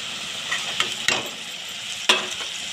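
Ground tomato paste hits a hot pan of fried ingredients, raising a soft steady sizzle broken by a few sharp scrapes and clinks of a stirring spoon against the pan.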